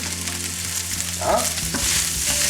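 Vegetables and courgette fry and sizzle steadily in a pan for Korean jajangmyeon noodles, a continuous close hiss with a few brief stirring scrapes partway through.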